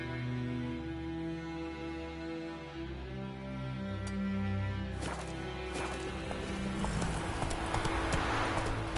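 Hooves of the horse Roach clip-clopping in a steady rhythm in The Witcher 3: Wild Hunt, continuous and fairly close under a low ambient game backdrop with music-like tones.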